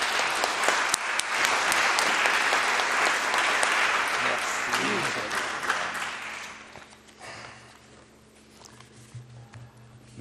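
An audience at an evening lecture applauds as the speaker is introduced, with dense, steady clapping that thins out and fades into quiet room noise.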